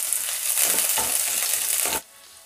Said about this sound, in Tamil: லைட்டாக ஃப்ரை பண்ணி விடுங்க